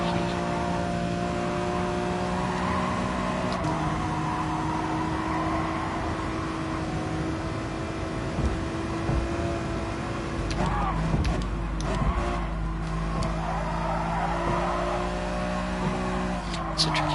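Race car engine in a PS4 racing game with a sticky throttle, a sustained droning whine that shifts pitch through corners, with a tire squeal and a commentator talking over it.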